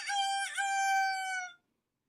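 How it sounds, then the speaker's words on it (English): A rooster crow played back from a device rings out alone, one long, clear, bright call lasting about a second and a half, then cuts off into silence. "They do have Rooster. Rooster's pretty neat."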